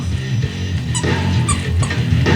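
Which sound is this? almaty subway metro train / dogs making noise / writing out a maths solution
dogs making noise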